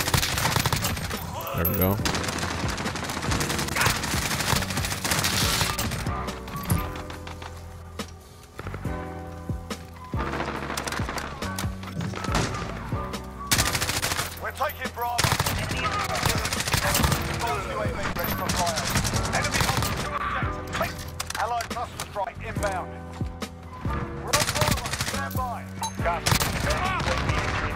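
Sustained bursts of rapid automatic gunfire from a freedom-themed M4A1 assault rifle firing blue tracers in Modern Warfare, loud and dense throughout with short pauses, while a player talks briefly.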